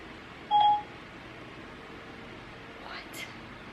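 A mobile phone gives a short, loud electronic beep of steady pitch, then a fainter pair of chirps follows a few seconds later against a quiet room hum.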